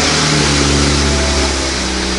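A BMW 135i engine runs loud and close, a steady mid-low drone rising slightly as it revs, continuous throughout with no voices.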